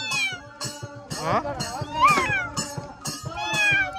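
A voice imitates a cat, giving several short high meows one after another, with other voices and background chatter close by at a village Holi Shimga gathering in Konkan.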